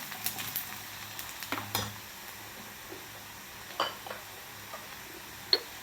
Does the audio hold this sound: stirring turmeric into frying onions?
yes